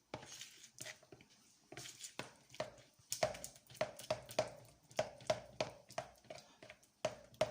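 Oil being whisked little by little into homemade mayonnaise for a Romanian beef salad, a steady series of close, rhythmic clinks and taps of a utensil against a bowl that quicken toward the end, with no talk.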